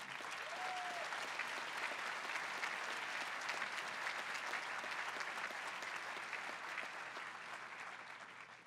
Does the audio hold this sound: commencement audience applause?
yes